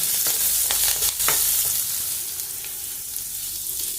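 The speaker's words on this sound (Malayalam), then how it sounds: "ചെറിയുള്ളി പച്ചമുളക് ചിക്കൻ നന്നായിട്ട് വഴച്ചെടുക്കും അതിലേക്ക് കറിവേപ്പില കൂടെ ചേർത്തിട്ടുണ്ട് നന്നായിട്ട് ബ്രൗൺ കളറാവുന്ന വരെ വഴറ്റിയെടുക്കുക" Shallots, green chili and curry leaves sizzle and fry in a pan for a Kerala Onam sadya dish, a loud steady crackle broken by the scrape and clatter of stirring, with no talk.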